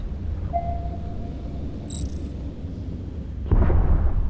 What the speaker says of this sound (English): And also a very nice explosion.